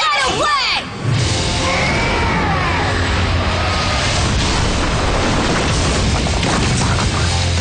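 A Shadow Blade attack in the Redakai animated series hits with a loud, explosion-like boom and crash, followed by a long, sustained roaring rumble.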